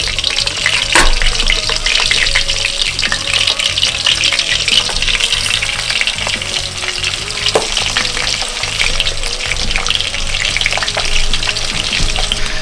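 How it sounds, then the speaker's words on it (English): A duck leg fries skin-side down in a pan, a loud continuous sizzle and crackle with occasional louder pops, close and steady throughout with no talking. "while my duck is frying"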